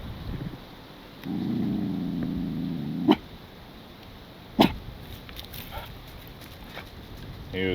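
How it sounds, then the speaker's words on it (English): A dog gives two sharp barks a second or so apart, fairly close and loud, outdoors at night on rural property, with a low steady hum earlier and quiet ambience between. "He was really barking."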